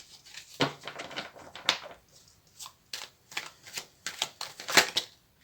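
Tarot cards being shuffled and flipped over, a series of quick crisp riffling bursts and snaps in irregular clusters with short pauses, close and loud with no talk.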